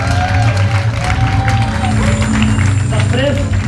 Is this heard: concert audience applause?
yes